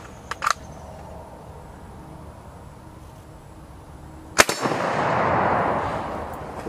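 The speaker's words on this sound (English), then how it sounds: "we had a couple rounds fire that weren't hang fires" A 7.35 Carcano rifle firing, one sharp loud report at close range followed by a rising rushing noise, with a couple of smaller clicks of handling earlier.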